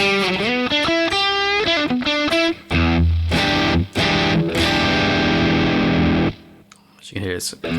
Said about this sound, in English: And here's the bridge pickup with single coil.